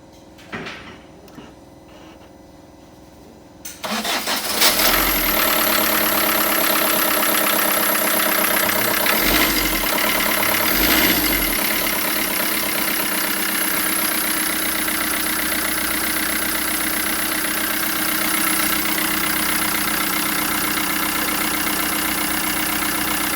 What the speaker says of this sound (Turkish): Aracın motoru çalışıyor. Biraz şıkırtılı olduğunu fark ettim.